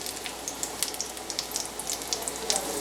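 Lentil fritters fry in a pan with a steady close-up sizzle, dotted with small crackling pops and spits throughout, and no voices.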